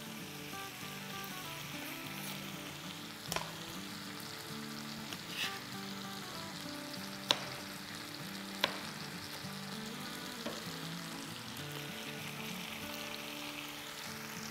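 Curry chicken ingredients, with chopped medium tomatoes being added, fry and sizzle steadily in a pan over a high flame, a continuous close hiss broken by a few sharp clinks of a utensil against the pan.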